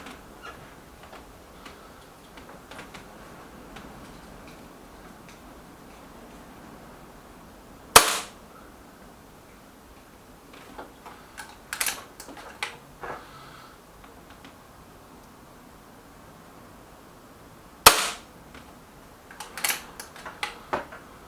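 An EB Arms XV2 air rifle firing JSB Exact pellets at a target: two sharp, close shots about ten seconds apart, with faint clicks and handling noises in a quiet setting between them.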